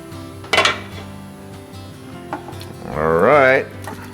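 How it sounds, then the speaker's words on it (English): Link sausage goes into a pot of simmering pinto beans with a couple of sharp metallic clanks against the pot, followed by someone speaking. "we're going to put some nice link sausage in this"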